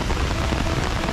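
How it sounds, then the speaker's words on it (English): Close, dense rain falls steadily on a yard with new grass, a constant hiss with no gaps and no voices. "It's a great rain, actually."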